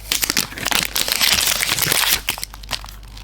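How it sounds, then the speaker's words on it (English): Cardboard packaging for Nothing Ear 2 earbuds being ripped and crumpled open up close, a dense run of loud crinkling and tearing that eases off near the end. "I'm just gonna have to rip the box open."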